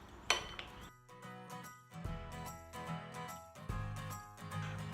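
A spoon scrapes and clinks against a bowl while mixing thick keto chocolate muffin batter. Sharp metallic taps with ringing tails are followed by softer scraping strokes, close up and fairly quiet.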